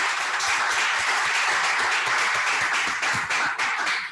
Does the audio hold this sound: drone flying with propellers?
no